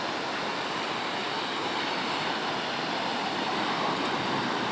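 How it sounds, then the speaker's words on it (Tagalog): Large ocean waves roll into a bay in rough, worsening weather, giving a steady, dense roar of surf close by that holds at an even loudness throughout with no voices. "makikita naman laki ng alon dahil po yan sa lagay ng ating panahon"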